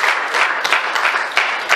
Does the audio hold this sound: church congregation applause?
yes